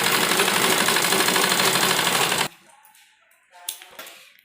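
Sewing machine running steadily for about two and a half seconds while stitching a half-inch seam on a salwar, a dense mechanical whir that stops abruptly, followed by faint handling clicks.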